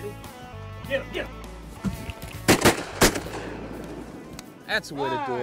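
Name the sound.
shotgun fire while duck hunting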